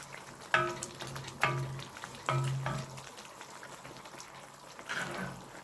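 Pieces of kaleji (liver) hiss softly in frying tomato masala, a faint, steady sizzle broken by a few sharp utensil clinks and stirring scrapes.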